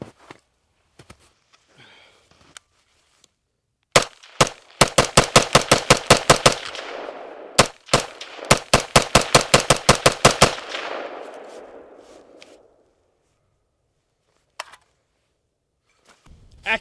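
Bushmaster Bravo Zulu rifle firing Fiocchi .223 55-grain ammunition outdoors in snow at 50 yards: a few single shots, then two rapid strings of sharp cracks with ringing echoes trailing off, and scattered isolated shots afterward, with no talk.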